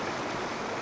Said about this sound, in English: we're through the waterfall